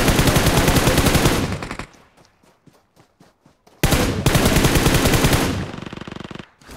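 Rapid bursts of M416 assault rifle fire in PUBG, loud and close, with a short gap of scattered quieter shots before another long sustained burst.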